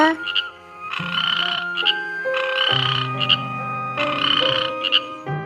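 A cartoon frog in an Odia animated story croaks loudly and alone, in three long, buzzing bursts separated by short pauses.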